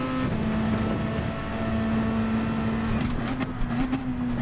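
A McLaren 650S race car engine from Gran Turismo 7 drones in a steady high, sustained note, loud and close, with a slight shift in pitch near the end and no talking over it.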